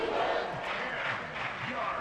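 Stadium crowd roaring at a football game during a tense third-and-ten play near the goal line, a loud sustained wall of cheering and noise throughout.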